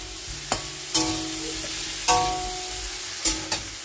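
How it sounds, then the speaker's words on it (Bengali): Broccoli frying with salt and turmeric in a pan, near a pot of jute leaves, gives a steady close sizzle broken by several sharp clanks and scrapes of a spatula stirring against the pan. "আর এদিকে ব্রোকলিটা ভেজে নিচ্ছি।"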